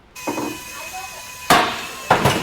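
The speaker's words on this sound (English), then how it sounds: "the way to get them off is you just smack them with the hammer and they explode" Hammer blows smacking old rubber bump stops off a Jeep Wrangler JK, three sharp impacts: a lighter tap, then two loud cracking bursts as the stops shatter, in an indoor studio.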